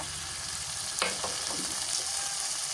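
Onion frying in a pan with garlic paste and onion paste added, a soft continuous sizzle with a few brief stirring scrapes, heard alone without talking.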